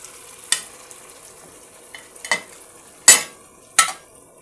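Onions frying in a pan with potatoes and tomatoes stirred in, for a Kuwaiti-style potato chicken dum biryani: a low steady sizzle broken by four sharp scraping stir strokes, close and loud, with no talk.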